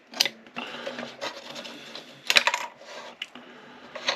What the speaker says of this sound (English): Just keep lightly scoring it, and it will cut through.